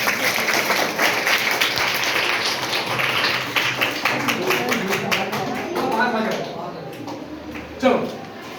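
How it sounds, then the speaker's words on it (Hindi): Students in a classroom give sustained applause, a dense steady clatter of many hands clapping throughout, with a teacher's voice running over it. "इन्होंने जो बोला ताली बजाएंगे इसके लिए"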